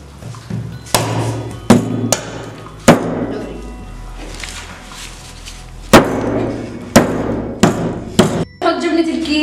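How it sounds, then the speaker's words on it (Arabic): Sharp hammer blows strike dry ice, several irregular loud knocks with crackling in between, close by. "نضرب الشاكوش"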